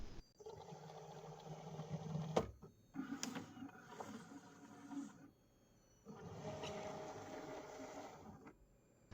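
A Cricut Explore 3 cutting machine loading vinyl, a quiet mechanical whir with roller and motor hums in several short stretches separated by pauses, with a faint clack between them.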